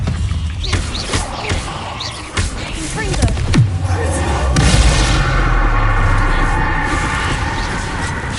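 A Confringo fire spell in Hogwarts Legacy bursts with a loud booming blast, followed by a sustained rumbling roar of flame and debris, with a voice briefly calling out beforehand.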